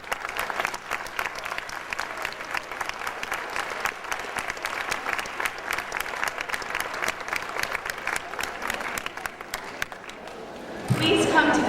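A large audience at a school music awards ceremony applauds steadily for about ten seconds, dense clapping throughout, then a louder burst of cheering and commotion near the end.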